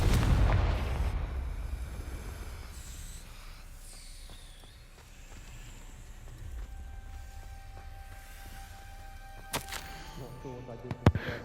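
A Confringo fire spell in Hogwarts Legacy goes off with a loud, deep blast at the start that rumbles away. Quieter low rumble follows, then a few sharp bright cracks near the end.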